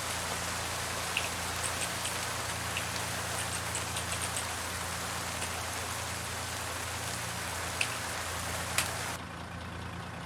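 Rain in the American Truck Simulator video game, a continuous soft hiss of drops with a low truck engine rumble underneath, a few faint clicks, thinning slightly just before the end.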